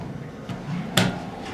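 A Toshiba elevator door in a community hall opens with a soft mechanical rumble and a single sharp clunk, close and brief against a steady background hum.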